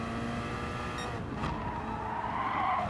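Gr.3 race cars lapping Brands Hatch in Gran Turismo Sport, engines droning steadily with a sharp burst of tire skid and squeal midway, no voices.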